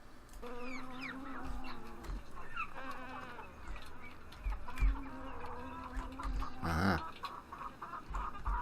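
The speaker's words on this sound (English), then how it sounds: "I can hear the chickens." Chickens and a rooster cluck steadily in a farm scene from the video game Farming Simulator 15, forming a continuous layered chatter of clucks and calls, moderately faint.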